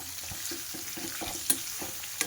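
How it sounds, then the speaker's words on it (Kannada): Onions roasting in oil in a pan for a mushroom and paneer gravy: a steady close sizzle broken by rhythmic scraping stirs and a couple of sharper clacks. "ಈರುಳ್ಳಿ ಚೆನ್ನಾಗಿ ರೋಸ್ಟ್ ಆಗಬೇಕು ಸ್ವಲ್ಪ"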